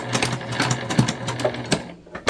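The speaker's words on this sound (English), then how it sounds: "we'll just come down here to the bottom, and we're going to stitch this together." Sewing machine stitching a fabric wristlet, a steady close rhythmic chatter of needle strokes running continuously with a brief pause near the end.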